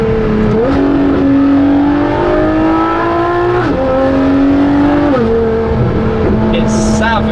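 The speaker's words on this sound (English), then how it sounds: "I suppose I better put it into race and try even more aggressive shifts, and the LaFerrari race really hones the thing down even more" A Ferrari LaFerrari with a straight pipe exhaust accelerates hard in race mode. The engine screams loud and close, climbing in pitch and then dropping sharply with each quick upshift, about three shifts in a row.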